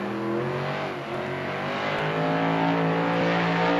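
Mayhem monster truck engine roaring and revving at a Monster Jam arena show in Atlanta, a loud sustained growl with shifting pitch, close and unbroken for several seconds.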